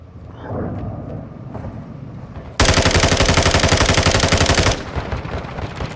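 Enemy gunfire in a shooter video game: a loud, sustained burst of rapid automatic fire for about two seconds, with quieter game ambience and scattered shots before and after.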